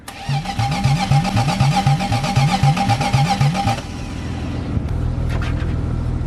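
A car nicknamed the Cheeto cranks on its first start, a fast regular starter chug of about a dozen beats before the engine catches and settles into a rough, loud running rumble.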